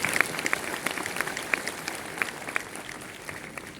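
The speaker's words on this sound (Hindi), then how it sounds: "ये आपके लिए जबरदस्त तालियां बजाइए इसके लिए" A large audience at a corporate business talk applauds steadily, a dense wash of clapping with sharper individual claps popping through, continuous throughout.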